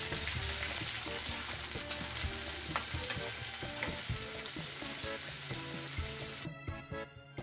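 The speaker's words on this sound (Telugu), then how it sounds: "ఆయిల్ హీట్ అయిన తర్వాత మనం కడిగి శుభ్రం చేసుకున్న మెత్తల్ని వేసుకొని గోల్డెన్ షేడ్ వచ్చే వరకు" Small fish frying in hot oil until golden, a loud continuous sizzle and crackle with occasional pops, fading into sparser spitting near the end, no talk.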